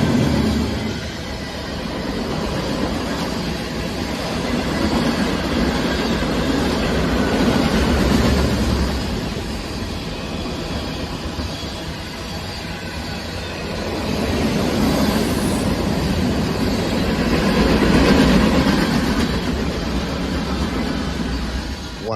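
A freight train hauled by GP38-2 locomotives rolls past at a crossing as a steady, loud rumble that swells twice as the cars go by, with faint wheel squeal and no talking.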